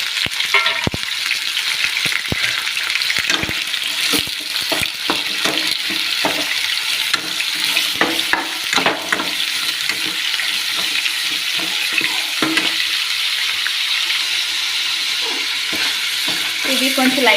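Mutton pieces, about 200 grams, fry in hot oil in a pan, giving a loud steady sizzle broken by repeated clattering stirs and scrapes of a spoon, close by and without speech.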